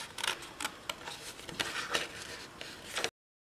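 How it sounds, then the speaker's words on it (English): Scissors snip through paper while a party hat is cut out by hand for a birthday card, giving a quick run of sharp, close, irregular cuts that stop abruptly near the end. "let me grab my scissors. All right, so let's go ahead and cut this out."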